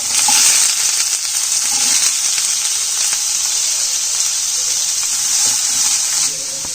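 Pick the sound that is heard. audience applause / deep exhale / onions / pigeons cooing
onions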